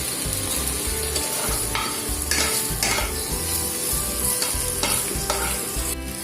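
Potatoes sizzle and crackle steadily in a hot pan, with repeated scraping strokes of a spatula stirring them, no voices.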